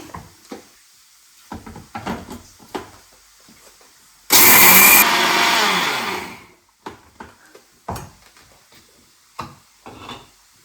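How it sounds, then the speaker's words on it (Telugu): An electric mixie grinding roasted dry ingredients for tur dal chutney, a loud whirring burst of about two seconds that winds down, with quiet handling knocks before and after. "మిక్సీ పట్టుకోవాలి"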